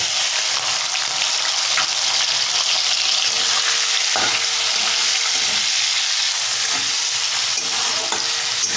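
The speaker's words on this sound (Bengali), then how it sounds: "তেল গরম হয়ে গেছে আর আমি চিংড়িটা এখন দিয়ে দেবো" Shrimp frying in hot oil in a heated kadai for a watermelon-rind recipe gives a steady, close, dense sizzle with occasional stirring scrapes throughout, and no voices.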